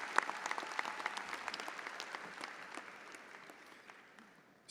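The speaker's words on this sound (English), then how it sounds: "Please join me in giving them a round of applause." A commencement crowd at the University of North Texas claps steadily in dense, even applause that carries through the whole stretch, with no voices over it.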